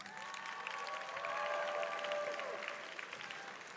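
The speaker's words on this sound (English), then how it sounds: "Graduates, please give your teachers a round of applause." Graduates applauding their teachers at a 2022 high school graduation ceremony, distant, fairly faint crowd clapping and light cheering in a large hall, with a voice briefly audible over it.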